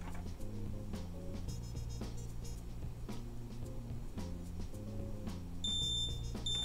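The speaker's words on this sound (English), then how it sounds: "Once you hear those beeps" A few short electronic pairing beeps from an Airversa Purelle HEPA air purifier near the end, high and clean, over a steady background of low tonal music.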